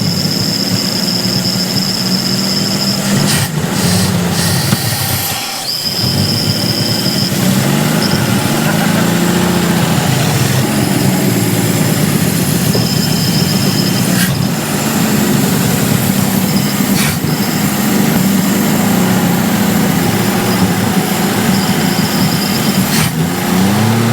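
Vintage GMC C30 dump truck engine running after sitting for 30 years, a loud steady idling rumble that continues throughout, with a few brief clanks and knocks.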